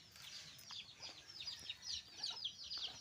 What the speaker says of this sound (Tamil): கோழி கொஞ்சமாக அரிசி கொடுத்தேன், அதுங்க சாப்பிட்டுட்டு இருக்குதுங்க.